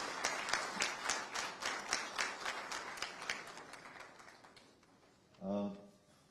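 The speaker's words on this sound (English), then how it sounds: "A loud round of applause." A crowd at a business meeting clapping to welcome Gujarat's Chief Minister claps in a rhythmic round of applause that fades away, followed by a brief voice.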